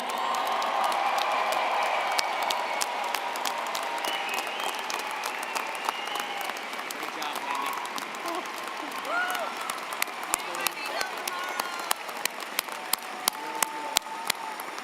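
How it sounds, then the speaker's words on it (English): Sustained applause from a large crowd at a college commencement ceremony fills the room, steady and full, with a few sharper claps standing out toward the end. "one big round of applause."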